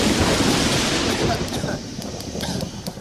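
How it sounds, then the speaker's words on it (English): Thunder rolling through a storm, the air split by lightning: a loud, broad rumble that starts strong and slowly fades over a few seconds, with a faint crackling texture. "Thunder. And thunder can get pretty loud."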